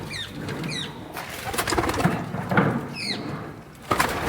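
Pigeons cooing in a pigeon-keeping setting, with low soft coos mixed among short, bright chirps from other birds in repeated bursts, fairly close, with no talking.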